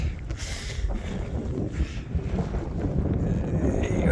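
Strong wind buffets the microphone on a mountain summit above 2,600 feet in the Lake District, a steady loud roar with gusty swells and no speech.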